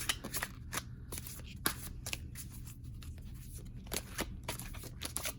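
Tarot cards being shuffled by hand make repeated crisp riffling bursts, close and fairly quiet, in an irregular rhythm over a low background hum.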